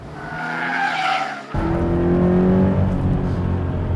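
A Toyota 86 sports car tips into oversteer, its tires squealing and skidding under a loud, steady engine note that climbs in pitch, continuous and close for the whole stretch.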